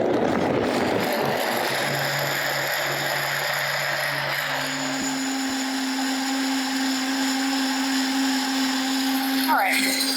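A blender whirs through roasted tomato soup in one continuous close, loud run, its pitch stepping up partway through before it winds down near the end.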